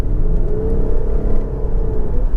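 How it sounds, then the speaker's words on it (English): A 3.3-litre Lexus RX 400h hybrid SUV with a CVT gives a loud, steady droning engine wail under hard acceleration, a continuous rumble heard from inside the car. "you put your foot down, you get a wail from the engine if you accelerate hard"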